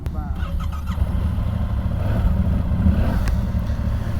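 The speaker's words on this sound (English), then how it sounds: "This is my first ride out on the Yamaha" A 2022 Yamaha R7 motorcycle pulls away on its first ride, its engine a loud low rumble that grows steadily under the rider's talking, with wind buffeting throughout.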